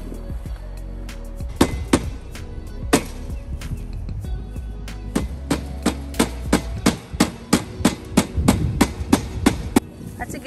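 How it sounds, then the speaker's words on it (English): A small knife cutting a piece of a ball python enclosure, heard as a series of sharp, close knocks and snaps that become steady and rhythmic toward the end, with a voice talking at the start. "We can just cut this with a little knife, and then it will fit perfectly."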